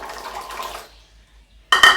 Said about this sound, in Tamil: இப்போ நெல்லிக்காயெல்லாம் கழுவிடலாம்.